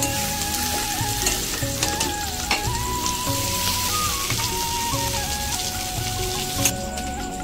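Taro leaves (kochu shak) frying and being stirred in a pan, a steady close sizzle with scraping stirs and small crackles throughout, no voices.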